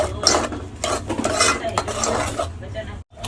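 A spoon scrapes and stirs masala for a chili curry around a metal pan in quick, repeated strokes, with a light sizzle underneath and no talking.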